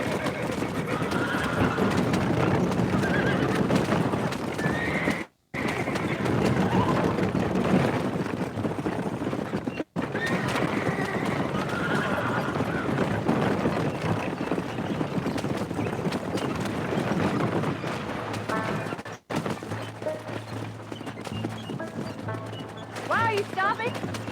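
In a Red Dead Redemption game scene, horses snort and whinny while hooves clip-clop steadily and close by, with game voices talking over them throughout.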